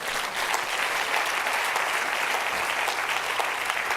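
A church congregation applauding during a sermon, dense continuous clapping from many hands, steady and fairly close throughout.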